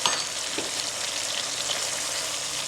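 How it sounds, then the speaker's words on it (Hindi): Garam masala and coarsely crushed black pepper sautéing in a pan for balti gosht, a dense steady frying hiss with faint stirring, close and uninterrupted by talk. "जरा सा भून लिया"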